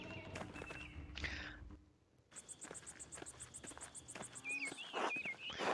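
Horses' hooves clip-clop in a medieval abbey setting in the game Pentiment, a light rhythmic patter of steps beneath a steady insect-like chirping ambience, with a short horse-like call near the end.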